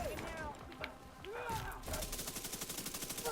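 Rapid gunfire striking a player's armor in a Crit/Clutch/Berserk video game, a dense run of repeated impacts building into a steady rhythmic volley, with game noise and speech underneath.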